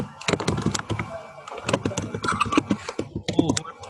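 Rapid clattering keystrokes on a computer keyboard, irregular bursts of sharp clicks close by, mixed with faint talk in the background.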